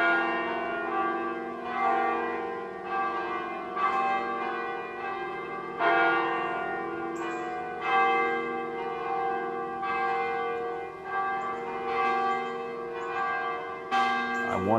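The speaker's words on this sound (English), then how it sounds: "people can hear the different bells individually or in combination" Several church-style bells rung singly and in combination, a steady series of bright strikes roughly every two seconds with long ringing overtones that overlap, loud and close, with no talk.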